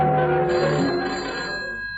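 A telephone bell rings as a radio drama sound effect, a loud ringing burst that fades out over two seconds.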